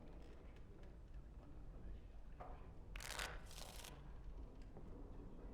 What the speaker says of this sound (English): Before we start, the cards must be shuffled.